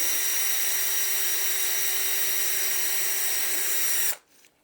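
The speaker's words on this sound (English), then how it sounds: "What I'm going to do is drill a tiny little pilot hole there and just put a very small self-tapping screw in there" Power drill drilling a small pilot hole in a car panel of a 2008 Smart Fortwo 451, a loud continuous high-pitched whine that holds steady for about four seconds and then stops abruptly.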